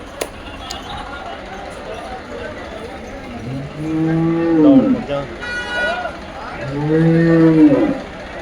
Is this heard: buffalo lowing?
yes